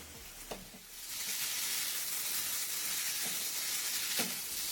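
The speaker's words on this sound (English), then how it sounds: "Our paneer tikka is sizzling and smoking hot." Paneer tikka sizzles steadily and loudly in a hot pan, a continuous frying hiss with a few soft clinks of stirring.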